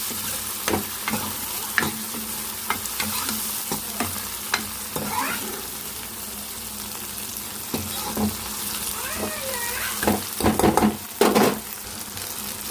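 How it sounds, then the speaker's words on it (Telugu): Tomatoes and curry leaves frying in a pan, a continuous close sizzle broken by repeated scraping stirs and clinks of a spoon, louder toward the end. "టమాటాలు వేగేటప్పుడే కరేపాకు వేసుకోవాలి కరేపాకు వేసుకొని మొత్తం ఫ్రై అంతవరకు కలిపి చేసుకున్నాం"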